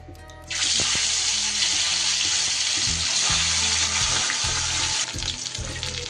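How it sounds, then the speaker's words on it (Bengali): Pieces of vetki fish sizzle loudly in hot oil in a kadai, a dense steady hiss that starts after a brief quiet moment and eases slightly near the end, with faint clinks underneath. "আমি 2 পিস করে দুবারে ভেজে নেব মাছগুলো।"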